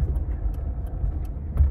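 Interior of a Honda Civic ED on the move, a low steady engine and road rumble with faint rattles, close and continuous with no talking.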